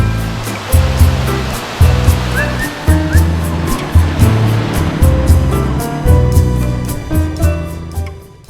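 A waterfall in Bohol pours in a loud, steady rushing roar of water that fills the whole scene, with repeated surging swells and no voices.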